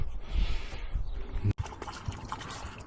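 Water trickles and pours into the seal of a water pump, a close liquid gurgle broken by a brief handling knock midway.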